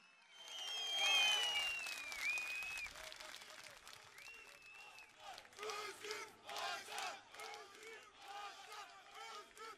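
A large outdoor crowd at a CHP political rally in Dikili, İzmir roars with cheering and chanting, surging loudly at first and then pulsing in rhythmic waves of collective shouts.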